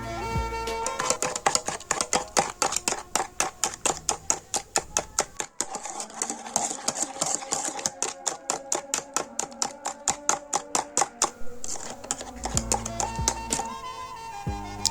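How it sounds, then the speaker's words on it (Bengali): Sugar being mixed into cake batter in a bowl gives a fast, steady run of sharp taps and clicks that continues almost unbroken, loud and close. "এখন এটা ভালো মতো মিশিয়ে নিব চিনিটা"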